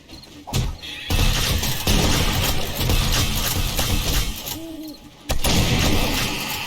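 Heavy, noisy bursts of gunfire and impacts in the video game 7 Days to Die during a horde night, loud and sustained with brief gaps between volleys.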